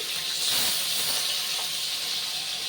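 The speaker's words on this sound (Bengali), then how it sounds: "সেই মাছগুলো তেলের মধ্যে দিয়ে দিচ্ছি।" Hilsa fish pieces rubbed with salt and turmeric hiss loudly as they hit hot oil, a steady, close, unbroken sizzle lasting a few seconds with no talking.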